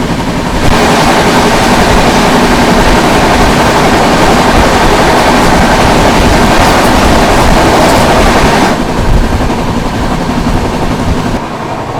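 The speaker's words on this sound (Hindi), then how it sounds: "सामने से आ रही है आप लोगों की अयोध्या कैंट से चलकर आनंद विहार की ओर जाने वाली वंदे भारत एक्सप्रेस" Vande Bharat Express running from Ayodhya Cantt to Anand Vihar roars past very loud and close, a dense continuous rumble with rattling wheel noise that eases off slightly toward the end.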